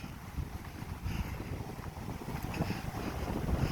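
Strong wind in Hilo, Hawaii buffets the microphone with a constant low rumble and roar, gusting slightly stronger toward the end.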